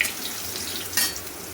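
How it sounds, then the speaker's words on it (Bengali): Potatoes fry in a pan with tempering spices, a steady broadband hiss with a brief louder crackle near the middle, no voices. "আলুগুলো ব্রাউন করে ভাজা হয়ে গেছে।"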